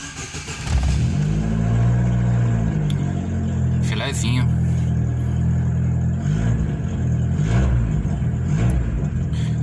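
A Chevrolet Celta engine idles loud and close while its throttle body is cleaned, with a few rises in revs as the throttle is worked, and a voice speaks briefly over it.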